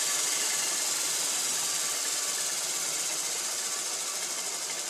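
An electric motor on an open source AC controller spins down after a max regen test, giving a steady close whir with a high hiss that fades slightly over the few seconds, with no talking.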